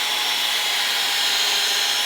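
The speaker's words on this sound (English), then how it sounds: "we're going to pre-drill" A steady, high-pitched drill whine runs continuously, loud and close, with no pauses or voices, as the drill pre-drills wood for a fence gate.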